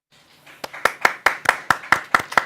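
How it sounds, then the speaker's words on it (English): A round of applause at a high school senior awards assembly, starting thin and sparse, then a few nearby hands clap in an evenly spaced rhythm, loud and distinct, about eight sharp claps with scattered clapping behind. "let's give a round of applause for Dr."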